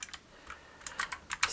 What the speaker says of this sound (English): I get to use my keyboard command.